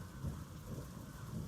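Thunder rolls low and muffled beneath a steady downpour of rain, a soft rumble swelling and fading across a brief stretch with no voices.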